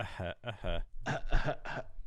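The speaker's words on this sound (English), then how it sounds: "Let me clear my throat." A few raspy, voiced throat-clearing grunts come in quick bursts, close and fairly loud, separated by brief pauses.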